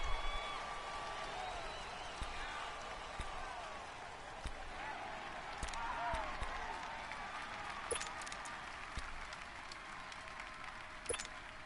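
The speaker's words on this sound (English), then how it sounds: "the crowd getting into it as we come up on a big 3rd down" A stadium crowd roars steadily in a Madden 19 football game between the Broncos and Chargers, building on a big third down, with a continuous wash of cheering and a few sharp thumps and hits scattered through it.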